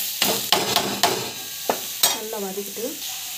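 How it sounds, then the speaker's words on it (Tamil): Vegetables sautéed with asafoetida and salt in a pan: repeated sharp spatula scrapes and knocks over a soft sizzle, close, with a brief rattle near the end and no talking. "உப்பு ஆட் பண்ணிட்டு நல்லா வந்து வதக்கிடலாம்"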